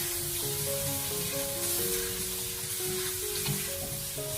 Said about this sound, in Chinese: 我们给它持续的爆炒1到2分钟，把鸭子和姜蒜都给它爆香。